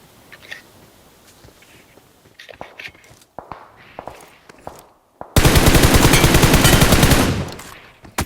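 Sustained automatic gunfire in the PUBG battle royale game, a loud rapid burst lasting about two seconds after scattered sharp shots and footsteps.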